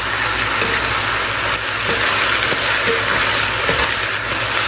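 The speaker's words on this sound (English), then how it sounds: "with the rice frying like this, you want to make sure you're hanging around the pot" A dense, constant crackling sizzle of rice frying in hot oil in a pot, steady and close, with faint scraping underneath.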